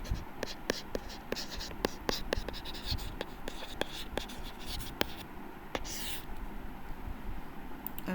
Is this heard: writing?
yes